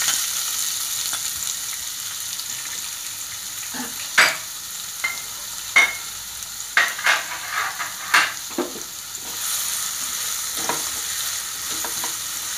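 Onions fry in hot oil in a pan at home, a steady close sizzle with intermittent scraping stirs of a spoon against the pan.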